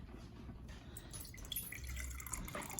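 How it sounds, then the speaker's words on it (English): Tea poured into a cup at home beside a homemade ramen meal, a steady close liquid trickle with faint splashy drips running the whole time, no talking. "pouring myself some tea"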